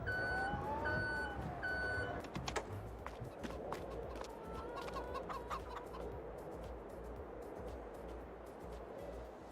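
Chickens cluck and a rooster calls in the farming video game Farming Simulator, with electronic beeps early on and clicks and vehicle rumble beneath, moderately loud throughout.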